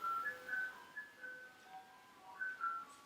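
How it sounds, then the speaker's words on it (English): An ice cream truck outside plays a thin, distant tinkling melody, a few faint repeating notes carried over a quiet background. "That ice cream truck is killing me right now."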